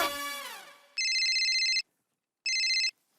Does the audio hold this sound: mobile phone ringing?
yes